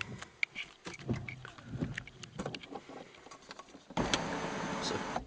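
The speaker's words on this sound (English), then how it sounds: "that'll allow us to just show you the electric tilt slide sunroof" A Volvo S80 2.4 diesel's electric tilt-slide sunroof motor whirs, brief clicks and rustling giving way to a steady, close mechanical hum near the end.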